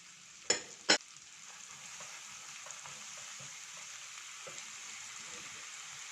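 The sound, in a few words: stirring seasonings and oyster sauce in frying pan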